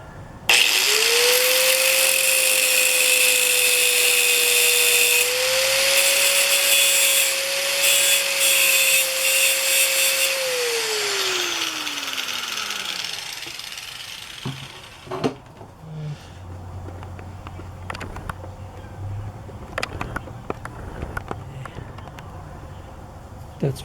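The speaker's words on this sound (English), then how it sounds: "you actually can get in and do some fairly close work with a grinder" A handheld grinder cutting a nail embedded in wood, a loud steady high whine for about ten seconds that winds down and stops, followed by quieter handling knocks and a person talking.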